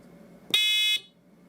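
A buzzer alarm driven by a transistor switch circuit gives one loud, steady electronic tone lasting about half a second, then cuts off abruptly, over a faint background hum.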